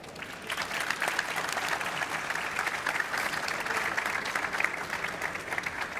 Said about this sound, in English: I'd like to thank them with a round of applause